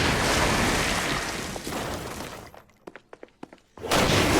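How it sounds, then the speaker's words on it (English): Petrified stone demons shattered by pistol fire in Saints Row: Gat out of Hell, with a burst of loud crumbling noise followed by a quick series of sharp cracking hits in a brief lull before the noisy action resumes. "After they're petrified, you can use your pistol to shatter them."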